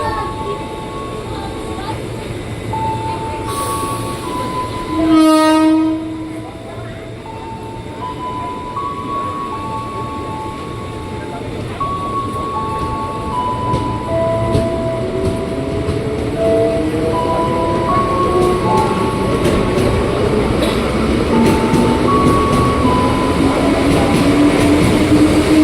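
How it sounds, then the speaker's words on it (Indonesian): A KRL commuter line train arrives at Tebet station with a rising hum of traction motors, a brief horn-like tone early on, and building rumble and rail noise, close and loud throughout. "ini langsung muncul lagi nih komuter tujuan Bogor ya"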